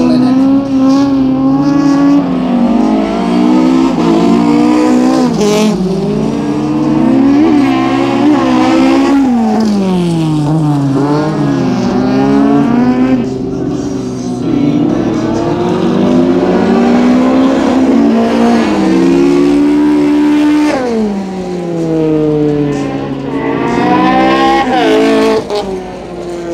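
Rallycross cars race together at Honkajoki RX Masters 2024, their engines revving and rising and falling in pitch as they accelerate and pass, loud and continuous with no pauses.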